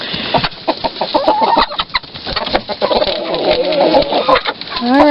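Chickens and a rooster on a backyard flock cluck and squawk close by in busy, overlapping bursts, with a rising crow-like call at the very end.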